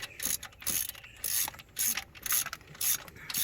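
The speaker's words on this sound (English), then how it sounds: "you can then tighten it down, torque it down" A ratchet tightens the mounting bolts on a 390-amp alternator, giving about six short, close bursts of rapid clicking with brief pauses between strokes.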